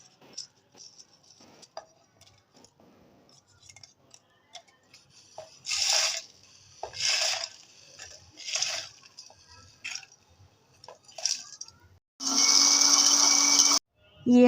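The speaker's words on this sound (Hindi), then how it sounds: "ये हम अपना मसाला ब्लेंड कर चुके हैं।" A countertop blender grinds roasted spices into chaat or garam masala in a home kitchen. It runs in several short loud pulses, then one sustained whirring burst of about a second and a half.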